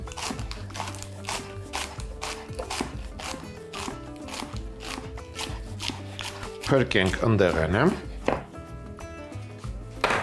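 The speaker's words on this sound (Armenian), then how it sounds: "մարուլի տերևները կտրատում ենք" A knife chops fresh lettuce leaves into ribbons on a cutting board for a zucchini salad, with rapid, even, crisp strokes, a pause midway while someone talks, then more cuts.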